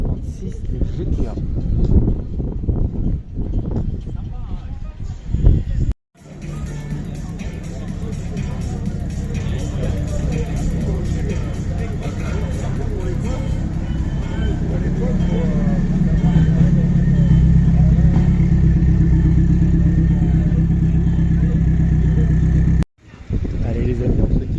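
Alfa Romeo 156 GTA driving off from a classic car show parking lot, a sustained engine note building in loudness amid wind and crowd murmur, with brief cuts in the sound.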